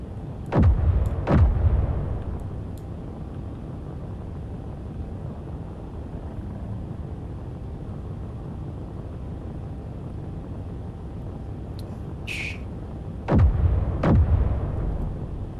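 Cannon fire and explosions in the Space Engineers video game: two loud booming blasts open the clip, a low rumbling roar carries on, and two more heavy booms land near the end.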